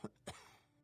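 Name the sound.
coughing in a video game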